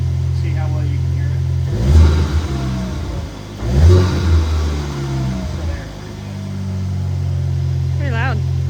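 A VW Mk8 GTI fitted with a cold air intake revs with the hood shut, two sharp throttle blips rising over a low idle, heard close and loud.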